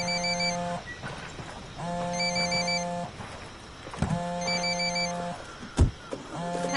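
Phone ringing in the video game Ghost Recon Wildlands: repeated bursts of a bright electronic ring, each lasting about a second with short gaps between, loud and close, with a brief thump near the end.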